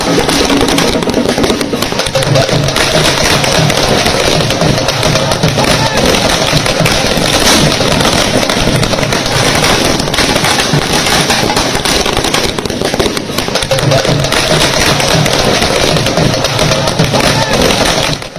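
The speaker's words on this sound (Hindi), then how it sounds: "भोपाल की सड़कों पर आतिशबाजी हो रही थी" Fireworks crackle and pop in dense, continuous bursts in the streets of Bhopal, loud and relentless, with crowd noise beneath.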